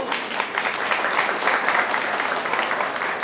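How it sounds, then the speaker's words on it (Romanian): Steady applause from an event audience at a pigeon racing gathering in Arad, a dense wash of many hands clapping continuously at even loudness throughout. "Aplauze, vă rog."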